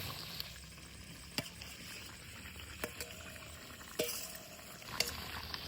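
Boiled taro leaves go into chicken masala frying in a pan, with a soft continuous bubbling sizzle broken by a few sharp clicks of a spoon against the pan.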